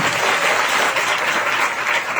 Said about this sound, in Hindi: एक बार जोरदार ताली अपने खुदावंद के लिए बजाएं।